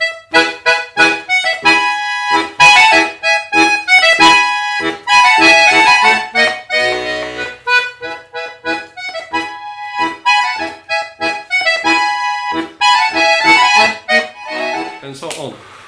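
Solo accordion playing Vivaldi's Spring at an advanced level, with dense bright chords and fast repeated staccato notes in lively bursts, loud and close, with no voices.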